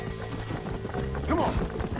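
Horses gallop in Red Dead Redemption, rhythmic hoofbeats thudding under game music while a voice speaks briefly over them.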